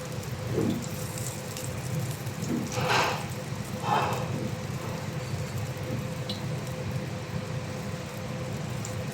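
Marinated vegetables such as cauliflower and potato deep frying in hot oil for aloo gobi masala give off a steady, close crackling sizzle, with a few louder bubbling bursts along the way.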